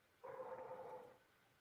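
A single dog gives one drawn-out bark or howl, close and fairly loud, lasting about a second against a quiet background.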